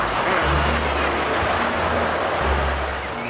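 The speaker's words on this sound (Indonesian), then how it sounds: "Truk towing, teman-teman." A tow truck passing on a busy road: a loud, close engine roar over dense traffic noise with hissing air-brake-like bursts, steady throughout, with no voices.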